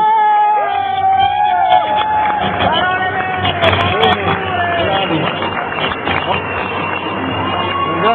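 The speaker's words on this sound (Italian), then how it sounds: "Grande applauso ancora" Cheering crowd and shouts at a tchoukball award ceremony in a gym, loud and continuous with whoops and excited voices over a murmur of people, clapping blended in.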